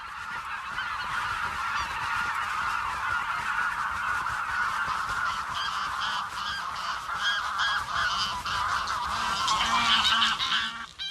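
A flock of greylag geese honking continuously and loudly, a dense overlapping chorus of calls that swells toward the end, with no talking.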